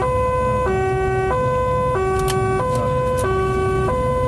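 Ambulance siren heard from inside the moving vehicle, a loud two-tone wail alternating in a steady cycle about every 1.3 seconds, dominating over road rumble.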